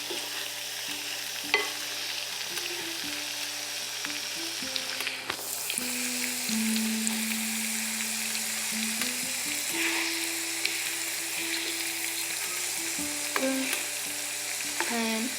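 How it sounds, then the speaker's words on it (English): Palm oil sauce frying in a pot on a stove, stirred now and then, with a steady close sizzle and occasional scraping clicks of the spoon throughout, no talking. "I'm going to stir this up."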